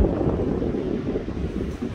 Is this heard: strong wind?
yes